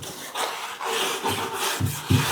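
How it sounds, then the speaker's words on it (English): Wood glue and sawdust filler being mixed up close, with a series of gritty scraping and rubbing strokes, irregular and moderately loud, ending in a few louder pasty scrapes. "I'm going to mix up some wood glue and sawdust to be able to fill those gaps"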